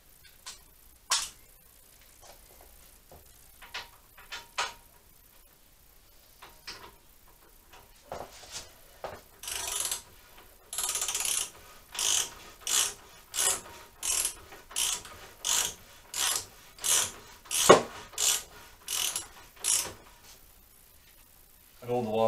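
Ratchet turning a 17mm socket to tighten a Honda CBR400 swingarm nut, quiet sparse clicks at first, then a steady run of about a dozen crisp ratcheting strokes close up, with someone talking.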